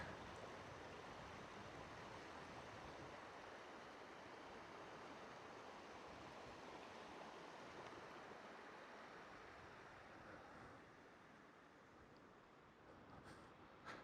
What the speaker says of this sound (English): The only thing you can hear is the sound of the river.